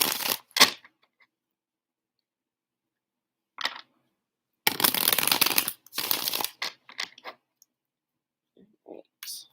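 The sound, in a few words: shuffling and pulling tarot cards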